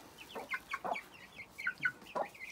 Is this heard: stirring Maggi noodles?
no